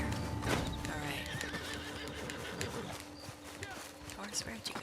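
A horse whinnies over clip-clopping hooves in Red Dead Redemption 2 Online, with a voice talking underneath and some game-like ambience; moderately faint throughout.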